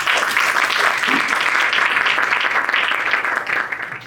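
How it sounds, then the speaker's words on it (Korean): A seminar audience at a Korean church history forum gives sustained, dense applause to welcome a theology professor, loud and steady from start to finish before easing slightly at the end. "박수로 환영하도록 하겠습니다"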